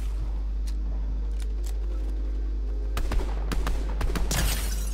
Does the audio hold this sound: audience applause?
no